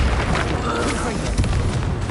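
Booming Confringo blasting-spell explosions from the Hogwarts Legacy video game, a dense, loud rumbling burst that fills the whole clip, with game voices mixed in.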